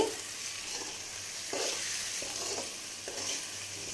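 Egg and drumstick leaves frying in a pan, stirred with a utensil: a steady close hiss of sizzling oil with soft scraping strokes recurring every second or so, no voices.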